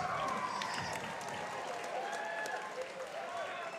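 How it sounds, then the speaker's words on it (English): Crowd applause at a Rise Championship fight night, a fairly faint, continuous wash of clapping and cheering with voices mixed into the background throughout. "Huge round of applause."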